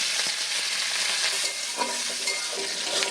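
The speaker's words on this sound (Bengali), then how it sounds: "আমি কড়াইতে অল্প তেল দিয়ে দিলাম, বাদামটা ভেজে নেব।" Peanuts frying in a little oil in a wok, giving a continuous bright sizzle with soft stirring taps, near and even in level, no speech.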